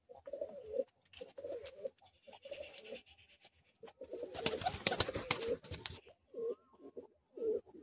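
Breeding pigeons coo in a pigeon loft, repeated soft throaty calls close by, with a burst of wing flapping and scuffling in the middle and no talk.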